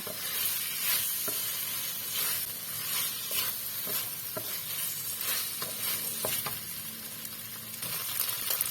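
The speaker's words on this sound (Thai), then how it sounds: "เราก็ใส่ มะเขือที่เราทอดไว้เมื่อกี้ค่ะลงไปค่ะ คนให้เข้ากันนะคะ" Fried eggplant and tofu being stirred in a hot pan, a steady close sizzle with scattered clicks and scrapes of the utensil against the pan, no talking.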